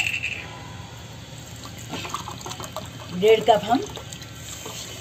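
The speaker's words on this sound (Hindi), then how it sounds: "पानी डाल देंगे।" Water poured from a cup into a pan for sugar syrup, a short liquid splash and gurgle near the end, partly under someone speaking Hindi.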